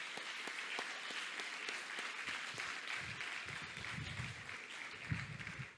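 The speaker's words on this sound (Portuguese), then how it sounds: "uma salva de palmas para ela." Faculty audience at a law lecture applauds, scattered hand claps forming a soft, distant patter, with a few sharper individual claps and some low rumbling toward the end.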